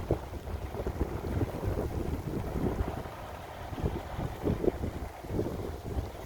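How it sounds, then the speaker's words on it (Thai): Strong wind gusts outdoors in snowy Sweden, buffeting the microphone with a rough, rumbling roar that rises and falls in uneven surges. "ลมนะคะ"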